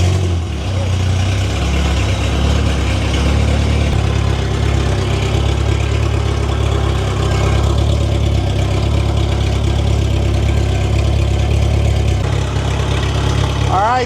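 A supercharged B18C VTEC engine in a 1992 Honda Civic idles loudly and steadily right after its first start, a continuous low rumble with voices talking over it.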